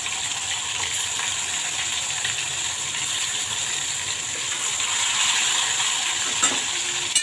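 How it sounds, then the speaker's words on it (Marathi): Curry leaves and tomatoes sizzling in hot oil with cumin and asafoetida for a lauki kofta curry, a steady hiss of frying that grows a little louder, with a few clinks near the end. "कढीपत्ता टाकते, टोमॅटो टाकून घेऊया"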